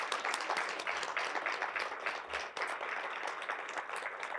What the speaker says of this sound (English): let's give all of our inductees one final round of applause